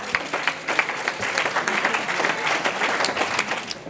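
A church congregation at a Sunday service applauding the Lord, sustained hall-filling clapping from many hands, dense and steady for the whole stretch.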